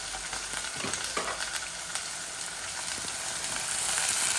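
Ginger, garlic, onion and dry spices fry in a pan with a dense, steady, close sizzle and a few light stirring knocks, growing slightly louder toward the end, with no speech.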